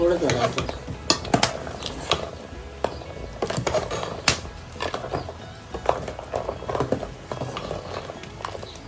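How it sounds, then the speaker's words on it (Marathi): Onion and coconut masala paste is stirred into a crab curry in a pot over a wood-fired stove: steady scraping and clattering of a spoon against the pot, with faint sizzling and occasional knocks. "आता हे वाटण आपण यात घालतोय"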